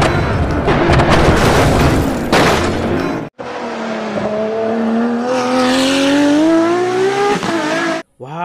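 A toy Bugatti race car plays loud racing sound effects: a burst of engine roar and booms, a brief cut, then a long rising revving whine, with a short break near the end.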